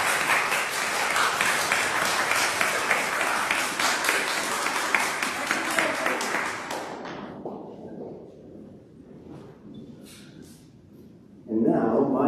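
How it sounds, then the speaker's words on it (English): A church congregation gives a birthday round of applause, sustained loud clapping from many people that fades out after about seven seconds into quiet, with speech returning at the end. "Let's give them a birthday round of applause."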